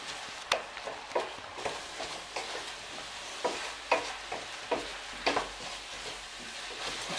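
Mushrooms being folded into a chicken bhuna in a pan, making a series of soft scraping, stirring strokes over a low sizzle, with about a dozen distinct pushes spaced unevenly and close by.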